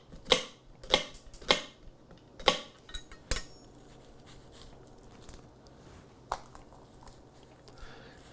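Half an onion being chopped finely with a knife on a board, a handful of sharp close chops in a quick cluster early on, then quieter scattered cuts.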